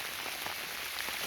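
Rain falls steadily over a garden with hoop tunnel and buckets, a soft continuous hiss of drops pattering on surfaces, faint and even, with no voices.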